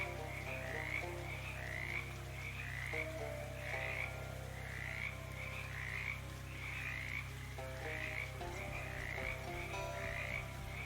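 Frogs croak in the video game Shadows Over Loathing, a steady, rhythmic chorus of repeated croaks pulsing across the whole stretch over a constant low ambient hum, with no talking.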